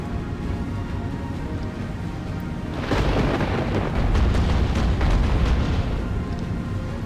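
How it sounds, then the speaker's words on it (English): A Fubuki destroyer's magazine explodes after a broadside in the naval combat game Battlestations Pacific, a loud sustained rumbling blast that swells midway and keeps roaring over continuous background noise. "Got some serious hits because we blew up her magazine."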